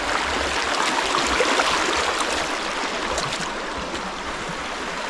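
Steady broadband rush of water flowing down a small Philippine creek after a landslide upstream, a continuous close wash without breaks and no talking.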